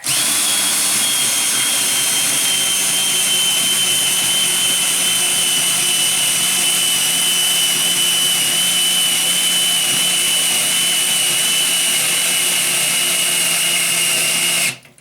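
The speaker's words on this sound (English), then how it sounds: "if you put the drill on the slow speed, it has plenty of torque to lift the whole car" A power drill whines continuously at steady, slow speed, driving a car jack to lift a 2005 Cadillac DeVille, loud and close, stopping abruptly at the end.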